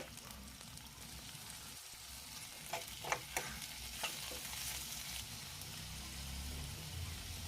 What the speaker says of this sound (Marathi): ठेचलेला लसूण घालायचा आहे। एक बारीक चिरलेला टोमॅटो घालूयात।